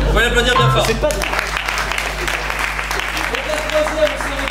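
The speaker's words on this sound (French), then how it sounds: "Vous pouvez l'applaudir bien fort." An audience at an improv theatre festival in Toulouse applauds a performer, clapping steadily throughout while people talk over it.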